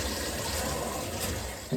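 A newly installed toilet filling and overflowing, a steady, fairly quiet rush of running water continuing throughout, ending with a brief louder knock.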